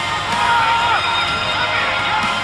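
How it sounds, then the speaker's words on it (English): An arena crowd roars and cheers at the finish of a ONE Championship fight, a dense sustained wall of voices with scattered whoops, loud and continuous. "The roar around me is deafening."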